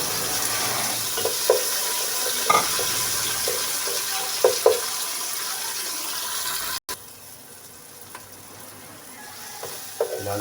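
Onion and tomato sauté in a pan with garlic for sardines with pechay, making a soft steady sizzle broken by occasional clinks and scrapes of stirring, with a faint watery hiss in the background.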